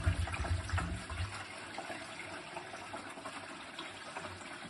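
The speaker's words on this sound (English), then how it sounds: "we fill up the compartment at the top just by pouring the water in" Distilled water poured into the top reservoir of an old desktop water filter, a faint, steady trickling stream that opens with a brief low gurgle and then runs evenly, close by and without talk.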